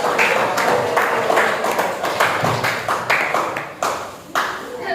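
Audience applause for a presenting student group at a university session, steady close hand-clapping with rhythmic individual claps standing out, sustained throughout the few seconds.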